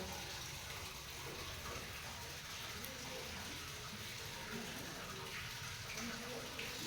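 Water running steadily from a tap while faces are washed in the morning, a soft continuous gush heard faintly and evenly throughout, with people talking nearby.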